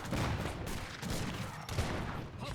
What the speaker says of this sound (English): And mass heavy cannon could be a problem for Kinesi